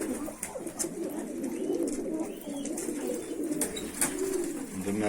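Turtle doves coo repeatedly in soft, low, rolling phrases amid a busy background of other bird chirps.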